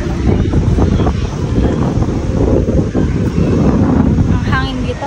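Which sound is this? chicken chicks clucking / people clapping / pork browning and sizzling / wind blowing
wind blowing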